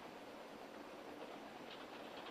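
A train running on rails, a faint continuous rumble and hiss with a soft clatter, steady and distant-sounding throughout.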